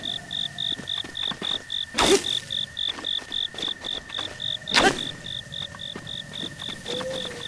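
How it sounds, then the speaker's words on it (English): Pulsing cricket chirps from the video game Zelda: Breath of the Wild, a steady rhythmic trill repeating throughout over quiet ambience, broken by two brief louder swishes. "I hear a cricket, but I don't see one."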